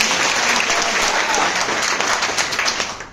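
Loud, sustained applause from a seminar audience in Dumka, a thick wall of clapping that stays strong for about three seconds before tapering off at the end.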